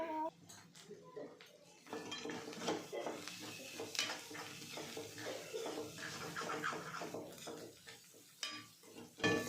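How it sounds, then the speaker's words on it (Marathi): Vegetables are stirred and mixed with salt in a metal pan, with repeated clinks and scrapes of a utensil against the pan and faint background speech. "त्याच्यामध्ये चवीनुसार आपण मीठ टाकून देऊ आणि हे सगळं आता मिक्स करून घेऊ"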